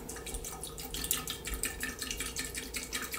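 Water trickles and drips steadily into a plastic planting tube with a grate at the bottom, a close, continuous splashing pour with no talking.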